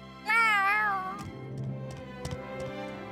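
A cat in the game Tales of Arise gives one clear, drawn-out, wavering meow close by, followed by quieter background tones and a few soft ticks.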